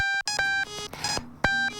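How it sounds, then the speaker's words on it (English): Glitched video game audio, from a game whose drum track is replaced by beeping: steady synthetic tones cut in and out in choppy bursts with abrupt gaps, loud and close, with no voices. "My game has never done this before with that beeping sound in place of the drums."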